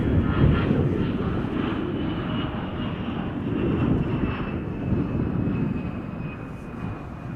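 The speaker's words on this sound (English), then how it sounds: "It's a 737-900ER in the Continental Airlines retro livery." A Boeing 737-900ER in Continental Airlines retro livery taxis at Chicago O'Hare, its engines giving a steady, fairly loud broadband roar with a faint high whine that holds throughout.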